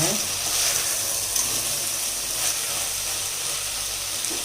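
Cubed bottle gourd and tomatoes sauté in a pan, giving a constant gentle hiss of frying at low volume with faint stirring, and no talk over it.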